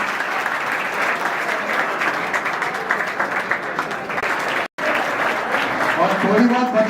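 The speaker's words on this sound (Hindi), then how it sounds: "तो एक बार जोरदार तालियां के लिए" Loud, dense applause from an audience honouring a first-prize winner at a mentoring event, sustained steadily with a momentary cut-out before continuing.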